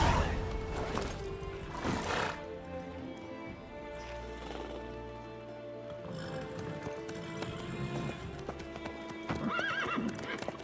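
A horse in The Witcher 3: Wild Hunt trots with steady clip-clopping hooves, joined by a whinny and snorts and a low rumble, all alone and fairly close.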